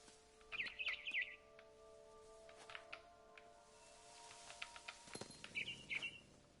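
Small bird chirps in the video game What Remains of Edith Finch: short bright twittering bursts near the start and again near the end, faint over a quiet game ambience with scattered soft clicks.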